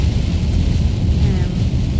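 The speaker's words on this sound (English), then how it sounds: "Really quite heavy rain, and maybe drive a bit slower." Heavy rain lashes down in Northern Ireland as a dense, continuous roar of close, loud downpour, with a deep rumbling undertone and no pauses.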